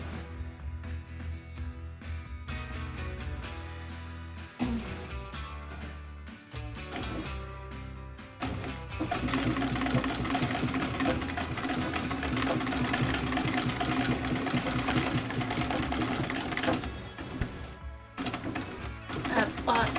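A 1923 Singer treadle sewing machine runs while stitching a throw pillow, its rhythmic mechanical clatter steady and close and growing busier and louder midway, with a person talking at times.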